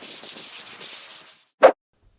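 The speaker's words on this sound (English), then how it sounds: "I used a coat of primer and then gave it a light sand." Primed wood is sanded lightly by hand in a close, steady run of soft rhythmic rubbing strokes for over a second. A single short knock follows.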